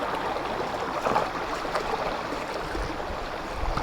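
Steady rushing water flows continuously nearby, a broad even wash of a waterfall at Odugathur Thottiparai in Tamil Nadu, with no voices.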